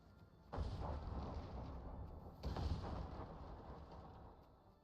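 Two heavy cannon booms in the Guild Wars 2 video game, each a sudden deep blast with a rumbling tail, spaced about two seconds apart over quiet game ambience.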